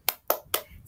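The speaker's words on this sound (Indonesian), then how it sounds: "Tepuk semangat." A teacher leads a primary-school class in a quick rhythmic spirit clap: three sharp, evenly spaced hand claps, close and distinct, with a fourth beginning just as it cuts off.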